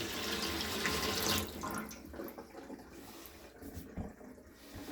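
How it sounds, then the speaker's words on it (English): A bathroom sink faucet runs steadily with a close, loud splashing rush, then the flow quiets and becomes softer trickling and clinking, with no voices. "So now we got a nice flow of hot water. Nice flow of cool water."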